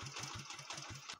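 A faulty motorbike's engine putters in quick, even low thumps as the throttle is twisted, a short, faint burst of sound with no voices over it.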